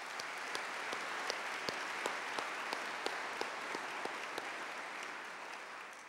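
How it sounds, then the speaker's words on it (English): Sustained applause from a large audience at a university fall conference general session, dense and steady for about six seconds with a few sharper claps standing out, fading slightly at the end. "I think that deserves a round of applause."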